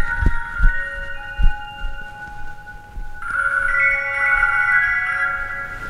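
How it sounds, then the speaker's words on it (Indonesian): Telephone ringing with a sustained electronic ring tone that steps up to a louder, higher pattern partway through, with a few soft knocks near the start. "Telepon."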